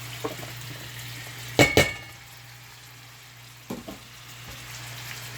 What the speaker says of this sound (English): Right now I'm gonna put my vegetable in. Tomatoes, everybody.